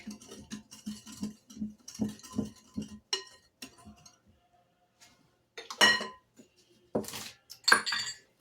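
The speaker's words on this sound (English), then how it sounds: "I'm just going to mix that around with my dough whisk" Scone dough for apple pie and cranberry scones mixed in a bowl with a dough whisk, giving quick rhythmic soft thumps and scrapes, then a pause and a few sharper clinks of utensils, close and fairly quiet.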